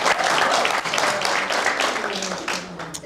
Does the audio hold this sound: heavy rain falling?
no